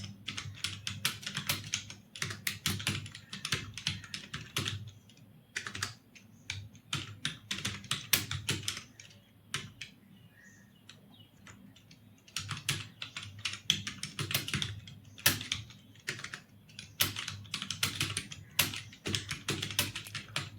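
Rapid keystrokes on a computer keyboard during typing exam practice, a dense, steady clatter of close clicks in bursts with brief pauses, no voices.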